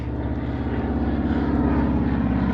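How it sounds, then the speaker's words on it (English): A propeller seaplane drones overhead near a quiet lakeside nook in the Temagami wilderness, its engine a steady, fairly loud hum holding throughout without any voices. "Seaplane coming back."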